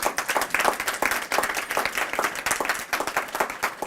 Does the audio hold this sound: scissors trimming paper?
no